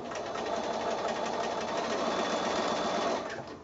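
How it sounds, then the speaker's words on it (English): Steady, close whir of a sewing machine running a quarter-inch quilt seam on a kite block, one continuous burst of rapid stitching that stops near the end, with no talking. "start sewing again with my regular 1/4 inch seam allowance"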